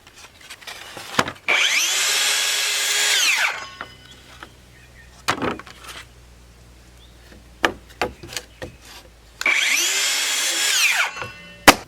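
A power tool whines loudly as it cuts wood for an outdoor shower at an off-grid cabin, in two long passes. Knocks and clatter fill the quieter gaps between them.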